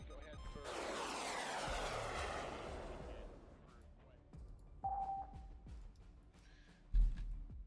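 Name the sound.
military aircraft in a war simulation video game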